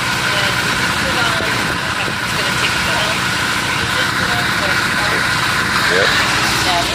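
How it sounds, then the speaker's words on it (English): Steady drone of a Morgan sailboat's inboard engine motoring at about 1,800 RPM, a constant low rumble with wind and water noise layered over it throughout. "we are sailing our Morgan out, motoring"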